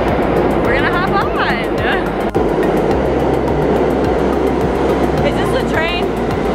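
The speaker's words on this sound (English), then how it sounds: "we're waiting for the train now. I think it's coming." A New York City subway train arriving rumbles steadily nearby with a low droning hum and screeching wheel squeals, a sharp clank partway through; faint talk mixes in.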